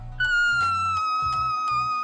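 A person imitates a kitten's meow in one sustained, slightly falling high-pitched mew lasting about two seconds, close and loud, over a low background hum.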